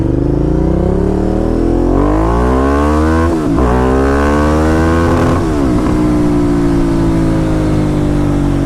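A Ducati Diavel cruiser motorcycle with about 1,129 miles on it accelerates hard, engine climbing loudly, then dips sharply at gear shifts, recovering and climbing again, close and sustained with no talk.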